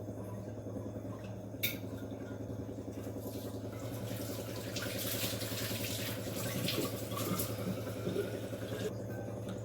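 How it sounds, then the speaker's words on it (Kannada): A tap runs steadily while a steel flask is rinsed of soap in a sink, with faint clinks over a constant nearby flow of water and no speech. "ಸೋಪಲ್ಲೆಲ್ಲ ವಾಶ್ ಮಾಡ್ಕೊಂಡಿದ್ದೀನಿ"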